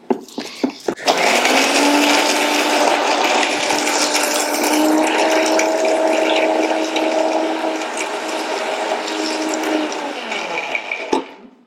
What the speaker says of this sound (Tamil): மிக்சியில் பவுடர் பண்ணுங்க